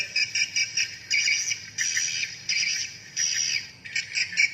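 A recorded swiftlet lure call in its mating-call version plays as bursts of rapid high chirping twitters, repeated in short phrases with brief gaps, clear and electronic in tone.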